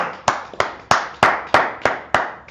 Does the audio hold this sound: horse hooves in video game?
no